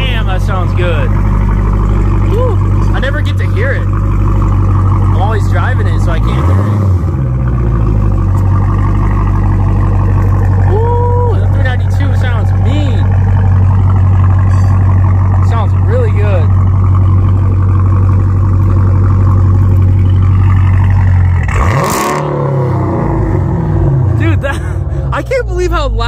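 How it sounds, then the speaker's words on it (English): A loud Dodge Challenger Scat Pack engine rumbles steadily throughout, a deep constant drone with shifts in pitch, and people talk over it. "I never get to hear the car, but it's like, damn, that thing's loud."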